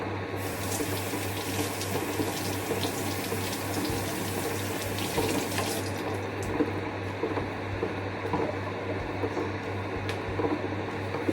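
Fruit, including Washington apples and watermelon, being rinsed under a running kitchen tap: a steady, continuous stream of water splashing into a sink at close range, with scattered small clatters and no talking.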